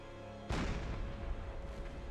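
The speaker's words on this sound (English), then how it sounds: "Deck gun ready, sir." A single loud, deep boom from a submarine deck gun firing in Silent Hunter 4, a sharp blast followed by a long rumbling tail that fades slowly.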